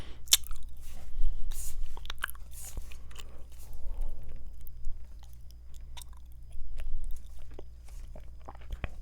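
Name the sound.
gum chewing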